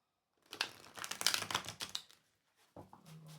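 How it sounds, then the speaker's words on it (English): A deck of cards is shuffled close up, a quick riffling burst of papery flutter lasting about a second and a half, followed after a short pause by a few softer card taps and shuffles. "one more shuffle."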